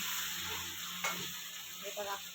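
Pomfret and mackerel frying in a pan, a steady close hiss of oil with a brief scrape of stirring around the middle and soft clatter near the end, no talking.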